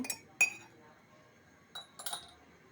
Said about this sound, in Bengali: মধুটা দিয়ে একটু নেড়ে ছেড়ে নেব